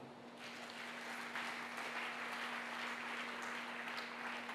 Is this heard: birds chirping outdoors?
no